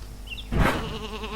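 A single wavering sheep bleat rings out after a brief thump, over a steady electronic background hum, a sound effect from the video game Isle of Ewe.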